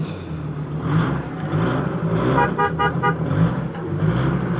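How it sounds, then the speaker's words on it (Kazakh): A car rolls past at a busy livestock market in Karakol, its engine a low, steady rumble close by, broken midway by a quick run of short, sharp horn toots. "Машина менен өтүп бартат."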